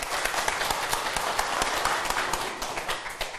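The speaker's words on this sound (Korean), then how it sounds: "박수 한번 주세요." An audience at a lecture breaks into brisk, steady clapping, a dense burst of many hands at moderate distance that tapers slightly at the end.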